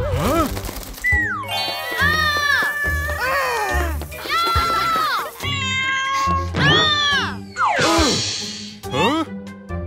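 A cartoon cat meows over and over in long, wavering, whiny cries, loud and close. It is mixed with cartoon voices and chatter and a bright jingling effect near the end.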